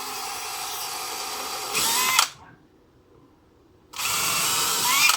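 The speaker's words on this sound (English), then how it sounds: "we're just going to drill through the top board with this one, much larger bit." A power drill with a larger bit bores through the top wooden board, a steady whine that briefly rises, cuts out for over a second, then starts again. It sounds close and moderately loud with no talk.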